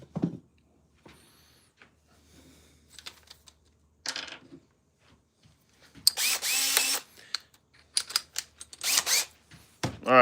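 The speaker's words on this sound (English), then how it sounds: "let's drill a hole." A power drill whines through mahogany wood in a few loud bursts of a second or so each, separated by quiet gaps and light handling noises.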